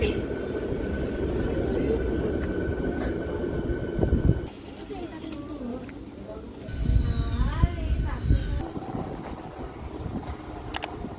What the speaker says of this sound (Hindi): अभी हम लोग हैं मौजूद झालुआबेड़ रेलवे स्टेशन पर और ये हावड़ा आमता रूट में पड़ता है।